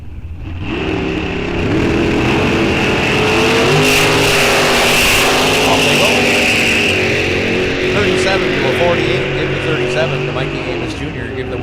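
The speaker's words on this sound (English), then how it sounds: "Small block powered rear engine dragster." A small-block powered rear-engine dragster roars down the strip at a drag raceway, a loud, sustained engine blast rising in pitch as it accelerates, with a public-address announcer's voice woven through the noise.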